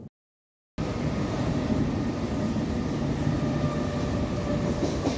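A Mumbai local train on the Harbour line runs steadily after a brief silent gap, a continuous broad rumble with faint rhythmic wheel clatter, heard from on board at an even, moderate level with no voices.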